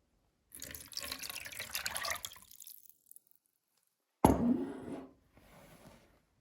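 Cold tap water runs into a bowl of salt and citric acid while samsa dough is being prepared, a steady splashing stream that stops, then a second close burst pours and trails off quietly.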